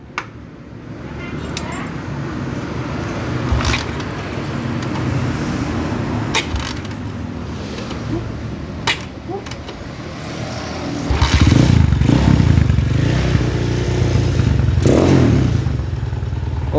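A motorcycle engine with a carburetor problem sputters and runs roughly nearby, with clattering and rattling throughout and a louder, rougher surge of revving in the last few seconds.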